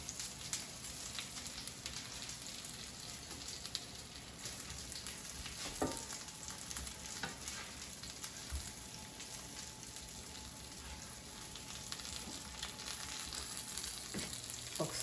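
Breaded chicken tenders sizzle in a frying pan just after being flipped, giving a soft, even crackle that runs steadily throughout with a few faint knocks.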